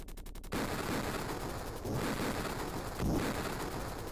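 Rapid enemy gunfire and blasts from the 16-bit Mega Drive/Genesis helicopter shooter Jungle Strike, a dense continuous barrage after a brief rattling burst, with louder bursts rising at intervals.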